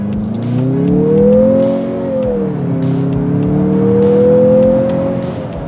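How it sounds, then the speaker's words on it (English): A Mazda CX-50 Turbo Meridian Edition engine pulls hard at full throttle, its loud, steady drone rising in pitch, dipping briefly at a gear change, then climbing again, heard from inside the cabin with no talking. "let's smash the throttle"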